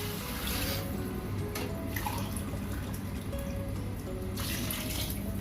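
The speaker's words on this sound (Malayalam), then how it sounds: "ഞാൻ ഇത് തിളച്ച വെള്ളമാണ് ചേർക്കുന്നത്" Boiling water poured into a pressure cooker holding rice for Arabian chicken madhooth, a steady rushing stream running continuously and fairly close.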